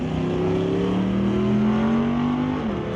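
A 1977 Chevy Nova drag car with a 414 small-block Chevy engine launches down the strip, its loud, steady engine roar rising in pitch as it accelerates, sustained and close throughout.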